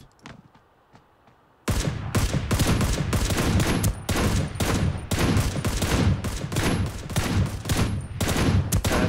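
Rapid bursts of gunfire in the Ring of Elysium video game, loud and dense, erupting after a quiet start and continuing as sustained automatic fire with brief gaps.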